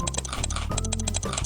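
Rapid mouse clicking while playing the Cookie Clicker video game, a dense, fast run of close, crisp clicks with short pauses between bursts.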